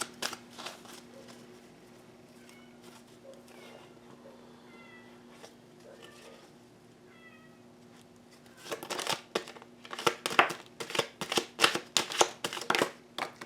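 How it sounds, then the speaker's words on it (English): A house cat meows several times, faint and somewhat distant, over a low steady hum. Sharp, close snapping and riffling of a deck of shuffled cards follows, louder. "Sorry about the cat meowing."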